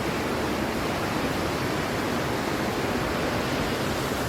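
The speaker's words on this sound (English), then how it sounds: "so there's the waterfall" Waterfall at Burney Falls in Northern California, a steady, loud broadband roar of falling water that holds unbroken and close throughout, with no voices over it.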